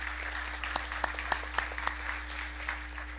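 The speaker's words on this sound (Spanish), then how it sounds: "¿No le da un aplauso al Señor por eso?" A church congregation gives brief applause during a Bible study on Leviticus, a few scattered claps over a steady low hum.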